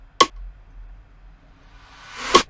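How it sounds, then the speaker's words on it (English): A snare sample in a drill beat followed by a delayed snare with a swelling lead-in, two sharp hits about two seconds apart over a faint low hum, with no talking. "And then I got this other snare, which is like a delayed snare."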